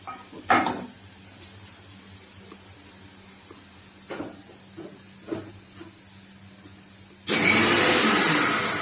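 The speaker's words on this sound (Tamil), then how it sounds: "ஒரு மிக்சியில ஒரு அடி அடிச்சுட்டு" A mixer grinder blending curd bursts into loud continuous whirring near the end, after a stretch of quiet with a few scattered knocks and clatters.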